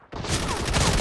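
A gyro-stabilized gun firing in a video game, a loud, close burst of gunfire that starts abruptly and keeps rattling without pause.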